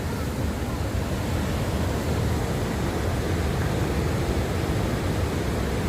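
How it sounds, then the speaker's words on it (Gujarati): Heavy floodwater rushing through a flooded village, a loud, continuous broadband roar of flowing water without pause, steady and close throughout. "આ બધું પાણી બહુ જાજુ જાય છે."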